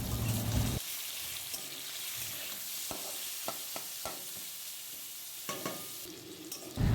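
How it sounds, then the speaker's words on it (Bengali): Pieces of chicken sizzle in hot oil left over from frying potatoes for a jackfruit chicken curry, a steady close crackle broken by a few sharp spatters, with a quiet gap partway through. "এবার ওই তেলের মধ্যেই চিকেনটাকে ভালো করে ভেজে নেব।"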